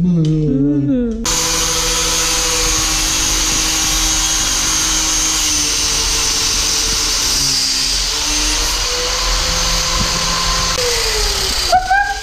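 A loud, high-pitched whine of a power tool cutting continuously up close, its pitch shifting slightly as it works, with a brief voice at the start.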